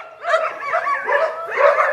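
Dogs and puppies yip, bark and whimper close by in a short run of high, wavering cries and yelps, loud and without talk.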